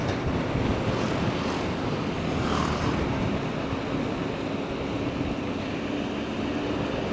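Strong wind buffeting on a motorcycle ride toward Dieng, a steady broadband rushing roar that stays loud and even for the whole stretch, with no voices.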